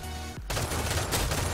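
A turret unleashes rapid automatic gunfire in the Ghost in the Shell shooter game, a loud continuous fusillade that resumes after a brief gap.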